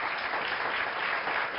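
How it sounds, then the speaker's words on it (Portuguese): Warm applause for the guests from a studio audience, a short, steady wash of clapping at even volume. "Mais um forte aplauso para todos os nossos convidados."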